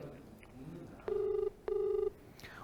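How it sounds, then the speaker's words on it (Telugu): Two long ringback tones of an outgoing phone call, each lasting about half a second with a short gap between, steady and clear over faint background noise. "నిఖిల్ ఫోన్ రింగ్ అవుతుంది."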